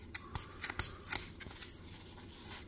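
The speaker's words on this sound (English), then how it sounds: "We'll get this blue tape off." Blue tape is peeled off a cardboard card mailer in short, sharp tearing and crinkling bursts, close and fairly quiet, with small scrapes and rustles between pulls.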